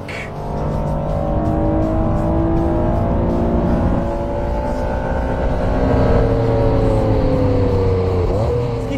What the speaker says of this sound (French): ils ont intégré dans leur moteur, entièrement nouveau pour cette voiture, un V6 3 litres avec le VTEC